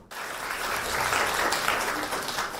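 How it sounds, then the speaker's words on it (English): An audience gives a burst of steady applause to welcome Khenpo before his talk on the wisdom of communicating with others. The dense, even clapping swells quickly and holds for a couple of seconds. "So now let us give a warm round of applause to welcome Khenpo to share his wisdom on life with"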